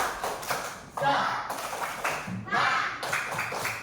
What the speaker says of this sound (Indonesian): Iya, kita tepuk semangat dulu ya, biar tambah semangat.